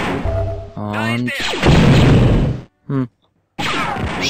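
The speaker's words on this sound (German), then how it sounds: "schicke Explosion" An explosion goes off in the game Star Wars Dark Forces, a loud booming crash among other in-game effects, blasts and sharp tonal sounds, with a brief silent gap near the end.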